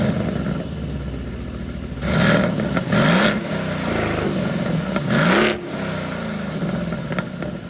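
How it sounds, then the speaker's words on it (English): 2023 Aston Martin Vantage 4-liter V8 revving in several sharp bursts, each climbing and falling back to a burbling idle, loud and close. "And yes, the V8 sounds just as good as you might imagine."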